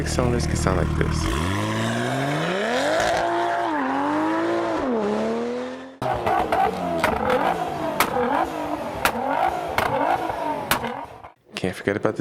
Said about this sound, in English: Six cylinders can sound like this.